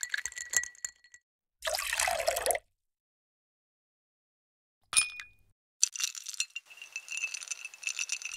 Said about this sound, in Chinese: 再加入20毫升 bourbon whiskey， 加冰块搅拌